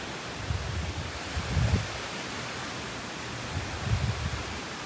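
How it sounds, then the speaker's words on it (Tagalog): Ocean waves washing onto Boracay beach on a rainy morning, a steady broadband wash with soft swells rising and falling about every two seconds, no voices. "Ganda ng tunog ng mga alon"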